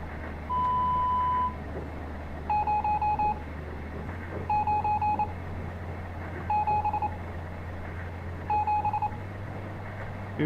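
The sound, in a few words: telephone dialing beeps in video game Stories Untold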